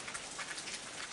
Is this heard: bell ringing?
no